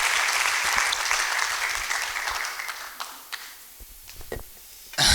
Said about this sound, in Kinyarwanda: Babakomera amashyi musubire kwicara.